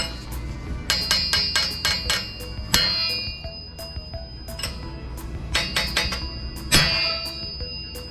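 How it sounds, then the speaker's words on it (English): A hammer strikes a chisel set against a 2011 BMW Z4 N54B30 steel crankshaft, giving repeated ringing metallic clinks in quick bursts with long bell-like decay. The bursts repeat several times and no one talks. "I'm just gonna take this chisel right here, all right, and I'm gonna strike it right in here and try to relax this metal"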